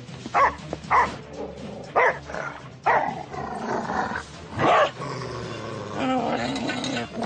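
A cartoon dog barks in short, loud bursts, several evenly spaced yaps followed by growling and whimpering sounds, with a busy animated soundtrack underneath.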